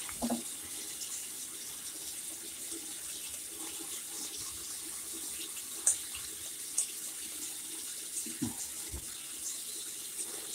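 A sink faucet runs steadily in a bathroom during a shave, a continuous near wash of water with a few faint clinks and taps over it and no talking.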